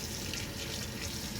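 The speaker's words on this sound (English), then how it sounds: "I think I'm gonna add a little bit more water" A tap runs steadily into a sink while water is added to shaving lather, a soft continuous hiss and splash, fairly quiet, with no voices.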